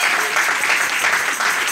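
A church congregation applauds and cheers at a worship service, a dense, continuous wash of clapping with a steady loud level and no pauses.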